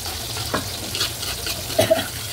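Garlic, onion and pork sauté in a pan with a steady sizzle and occasional stirring scrapes, moderately loud and close.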